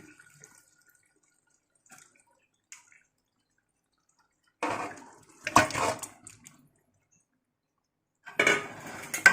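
Marinated chicken being stirred in a pot for Hyderabad layer chicken biryani, heard as short wet scraping and clattering bursts separated by near silence, with two louder clusters toward the middle and end.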